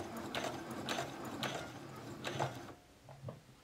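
A sewing machine stitching fabric, running in several short rapid bursts with mechanical clatter and brief pauses between them, close by with no talking.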